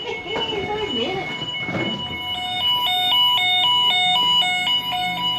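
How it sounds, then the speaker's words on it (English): An electronic alarm at an airport terminal sounds as a repeating pattern of steady high beeping tones. Voices talk over it at first, and the beeping carries on after they fall quiet. "I think you set the alarm off, didn't you?"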